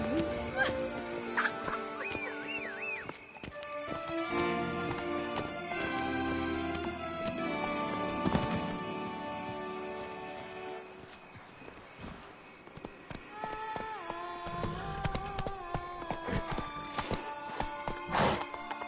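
Geralt's horse Roach gallops in The Witcher 3, hooves clip-clopping rhythmically under a game music score, with occasional snorts and a neigh, steady and fairly close.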